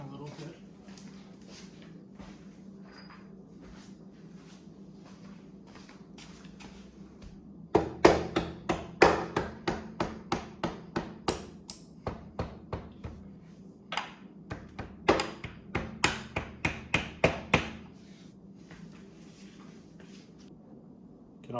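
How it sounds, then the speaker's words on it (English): A hammer drives a swing arm bolt into a Timbersled snow bike kit, two bursts of roughly a dozen sharp metallic blows each, close and loud after a quiet start. "I'm gonna need to hammer mine in a little bit."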